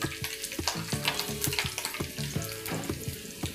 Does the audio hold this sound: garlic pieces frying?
yes